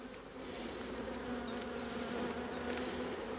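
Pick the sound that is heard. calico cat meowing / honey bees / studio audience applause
honey bees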